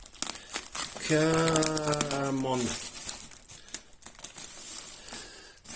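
Close, crackly plastic crinkling and rustling, with a voice briefly speaking over it partway through.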